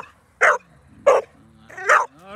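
A 4.5-month-old American Staffordshire Terrier puppy meeting a Boxer, three sharp close barks spaced about three-quarters of a second apart with quiet whimpering between them.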